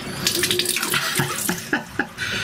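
Salt water from a sinus flush rinse splashes and trickles, close and fairly loud, in short gurgling bursts with irregular drips and pours.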